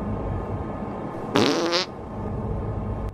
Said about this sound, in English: Bro definitely just busted ass.